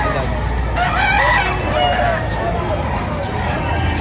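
Roosters crow amid constant clucking and crowd murmur at a busy chicken market in Padre Garcia, Batangas, loud and close, with people talking over the birds.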